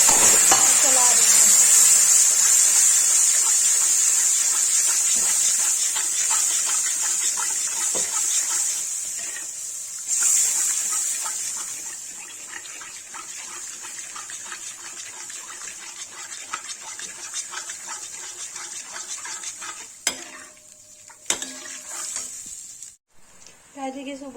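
Red chili is stirred into hot oil in a pan for Kashmiri dum aloo: a loud hiss that fades gradually, followed by quieter sizzling with occasional scraping stirs.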